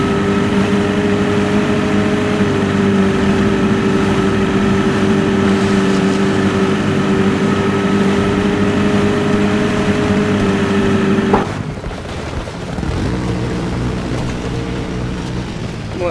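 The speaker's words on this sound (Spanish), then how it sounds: "Bueno, ya estamos aquí con la lancha" A motorboat engine in the video game Battlefield Play4free, droning loud and steady with a sustained hum and water wash, then dropping sharply in pitch and level near the end as the throttle eases.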